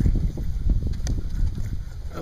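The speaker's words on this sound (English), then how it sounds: "of course it's windy on Little Otterslide" Gusty wind by a lake on a canoe portage buffets the microphone with low rumbling bursts and a steady whoosh, loud and close, with lapping water beneath.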